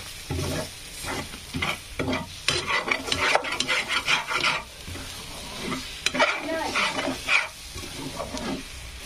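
Egg bhurji scrambled eggs sizzle in a pan while a spatula stirs and scrapes in quick bursts, the frying close and fairly loud with short pauses between strokes.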